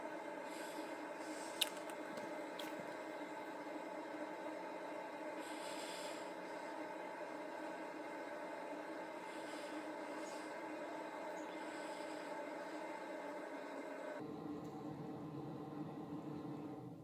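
A steady, droning mechanical hum of a heating system runs throughout at constant level, then cuts to a quieter tone near the end.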